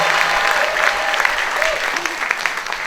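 Loud, sustained applause from a crowd at a peace gathering, dense and continuous, with a few voices calling out over it.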